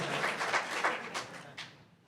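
A crowd's applause fading out, a brief wash of scattered clapping that trails off into quiet within a couple of seconds.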